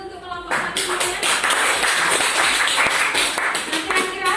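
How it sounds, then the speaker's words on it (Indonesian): A classroom fills with applause for the first group after its presentation. Many hands clap fast and dense, starting abruptly and going on steadily under some talk. "Tepuk tangan dulu untuk kelompok 1 semuanya."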